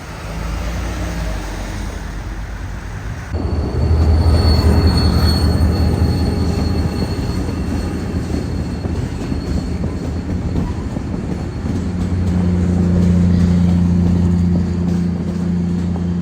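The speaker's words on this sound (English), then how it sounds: "not before we got a look at downtown and the next train north" A freight train rolls past in downtown Duluth, a loud, steady rumble of rail cars with wheel squeal and clatter that swells midway and holds close, with no talk over it.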